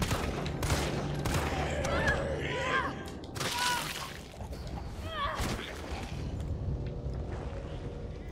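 Gunfire in the video game Resident Evil 3, sharp shots cracking out in an irregular burst amid game effects, with a person speaking briefly over it.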